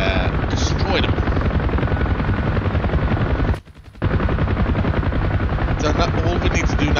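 A military helicopter in the DCS World combat flight simulator, its rotor thumping in a loud, continuous rhythmic drone that cuts out abruptly for a moment midway and then resumes at full strength.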